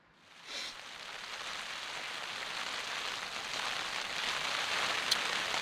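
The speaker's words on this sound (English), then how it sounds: "I don't know if you can hear, but it's now raining" Steady rain patters on tent fabric at a wild camp in Glencoe, Scotland, a dense continuous hiss that stays close and even throughout, with a single brighter drip near the end.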